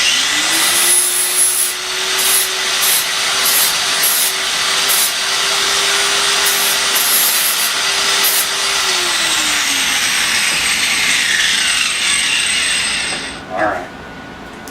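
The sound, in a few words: deburring a corner of a T-nut workpiece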